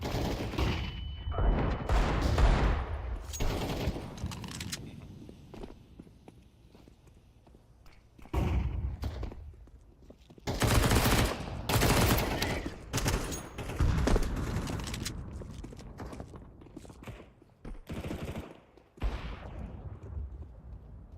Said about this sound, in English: Throwing smoke. Grenade out. Deploying flashbang.